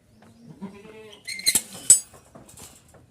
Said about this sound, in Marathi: आता सध्या बोकड बघायला आलो होतो ते बघून घ्या तेच आहे बोकड